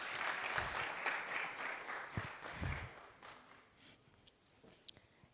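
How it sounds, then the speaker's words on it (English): A small conference audience gives brief, faint applause that thins into scattered claps and fades, with a few sharp taps near the end. "Let's give a few claps."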